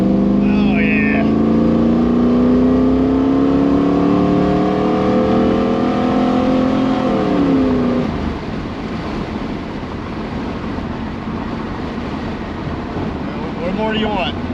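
Chevrolet Camaro IROC-Z engine pulling hard under throttle during a tune, a loud rising roar for about eight seconds that then drops to a rougher, steady drone.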